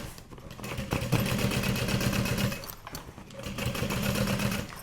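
A sewing machine runs steadily, top stitching the liner of a sport duffel bag, its fast, even needle rhythm loud and close with a brief slowdown midway before it speeds up again.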